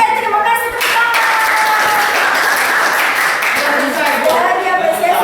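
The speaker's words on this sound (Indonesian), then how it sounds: "terima kasih tepuk tangan" A classroom of students bursts into loud, dense applause for a group presentation, many hands clapping continuously up close, with voices and chatter mixed in.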